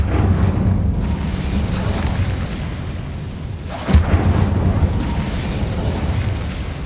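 A fire spell cast in a Hogwarts video game sends a loud, rumbling burst of flame through the scene, with a sharp whoosh near the middle over a steady roaring bed and no talking.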